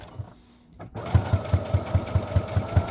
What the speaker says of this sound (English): Okay, so I'm sewing close to the edge.